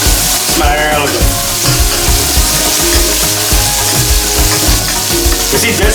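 Pork sizzling in a little oil in a pot as a loud, dense, steady frying hiss. Stirring scrapes and clanks come through close up.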